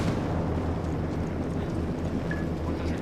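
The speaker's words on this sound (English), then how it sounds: "Grenade! Watch out!" A grenade blast in the video game Ghost Recon Wildlands: a loud, sustained low rumble that fills the whole stretch with dense, roaring noise and no clear pause.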